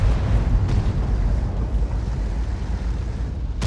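A tank gun lands a direct hit in the World of Tanks video game, a loud, sustained rumbling blast that fills the whole stretch with heavy low roar and no talk.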